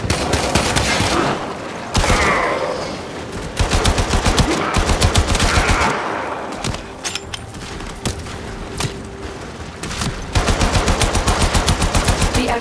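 Warframe enemy gunfire rattles in loud, rapid automatic bursts, near and continuous, broken by brief lulls before the shooting picks up again.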